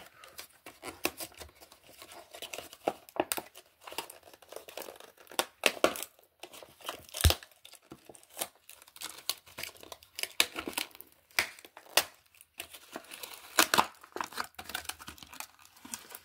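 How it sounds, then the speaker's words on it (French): Cardboard box torn open by hand, a dense run of crinkling, ripping and crunching bursts at close range with no talk, ending on a silicone item inside. "je vais arracher la boîte"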